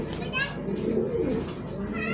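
Soft repeated low cooing from a pigeon close by at a pigeon market in Mirpur, Dhaka, rolling in gentle throaty pulses, with brief speech-like sounds mixed in.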